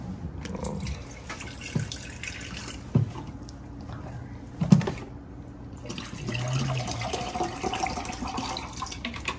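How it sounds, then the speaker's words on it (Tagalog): Tap water runs and splashes into a container being filled for coffee, an uneven gurgling stream with a few louder knocks and clunks nearby. "So, lagyan natin na ng tubig. Para makapagkape na tayo."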